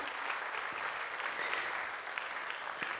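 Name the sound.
warm clapping for first-time visitors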